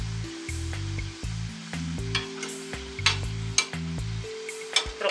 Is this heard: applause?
no